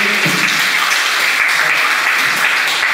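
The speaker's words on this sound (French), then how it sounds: "on applaudit tous les coordinateurs" Steady applause from a conference audience on electoral education, a dense wash of clapping filling the whole stretch at moderate volume with a few faint voices beneath.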